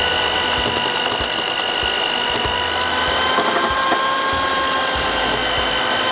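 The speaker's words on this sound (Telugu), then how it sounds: "ఇప్పుడు మనం విస్క్తో బీట్ చేసుకుందామండి" Eggless vanilla cake batter made with water is beaten with a whisk, giving a steady, dense whirring drone with faint rhythmic knocks against the bowl throughout, close and continuous.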